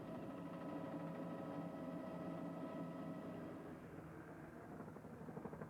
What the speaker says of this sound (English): using helicopters to spray herbicides to keep the encroaching thistles and gorse at bay